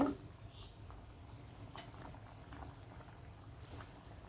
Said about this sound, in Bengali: টমেটো তরকারিটা ঝোলটা বলক চলে আসছে